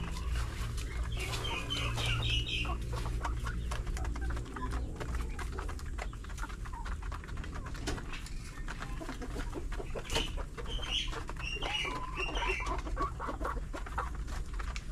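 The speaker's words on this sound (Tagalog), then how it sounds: "Ayan, tapos ko nang napakain tong mga manok ko." Flock of chickens clucking around a farm coop where breeder fowl are kept after feeding, steady overlapping clucks and calls with a constant low hum and background noise throughout.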